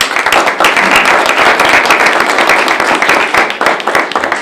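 An audience at a community compact signing event breaks into loud, dense applause. The clapping continues steadily and up close for the whole span.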